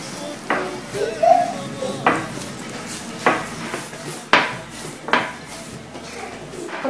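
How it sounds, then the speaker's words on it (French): Batbout bread dough worked by hand, giving soft repeated slaps and thumps about once a second, close and moderately loud, with faint clatter in a quiet kitchen and no talk. "Il faut bien travailler la pâte"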